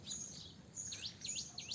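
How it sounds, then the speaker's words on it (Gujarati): Several small birds chirp in quick, repeated high tweets, faint and somewhat distant over a quiet background hum, with no one talking. "જો ટ્વીટ ટ્વીટ ટ્વીટ ચાલુ હે"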